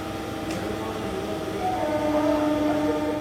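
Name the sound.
MEMU passenger train running from Kakinada Port to Rajahmundry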